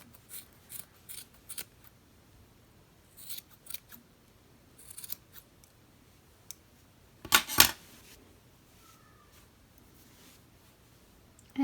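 Scissors trim the ends of a yarn tassel with quiet, close snips in scattered bursts and several pauses, ending in a louder cluster of sharp cuts.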